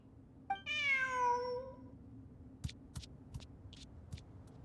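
A cat in a video game gives one clear, drawn-out meow, followed by a few faint clicks and taps.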